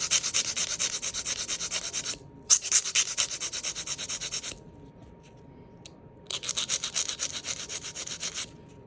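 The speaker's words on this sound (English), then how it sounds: "Make sure that your file is straight, that you're filing from your sidewall to your free edge." Nail file rubbing back and forth along an artificial nail tip, shaping it square from sidewall to free edge, in quick close raspy strokes with two short pauses.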